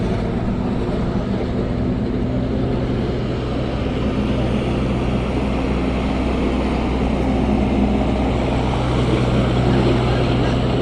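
An Ace AX124 backhoe loader performs stunts, spinning on its axis while balanced on two tires; its engine gives a loud, steady, close droning rumble that holds unbroken throughout.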